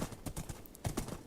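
Quick, close clip-clop hoofbeats patter in a steady trot as a horse is ridden in a video game.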